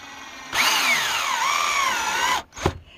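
A power drill drives screws into wood for a table build, whining up and bending in pitch for about two seconds, then a short second burst after a pause; loud and close, with no talk.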